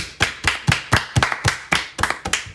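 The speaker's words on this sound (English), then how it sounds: "let's all give a clap for all the doctors that work hard to make these sodas" A small group of people clap their hands at a table in a brisk, uneven rhythm, about a dozen sharp claps close by over a couple of seconds.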